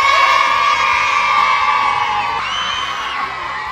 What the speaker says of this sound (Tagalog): naririnig niya na nagsisigawan ng mga bata sa sobrang saya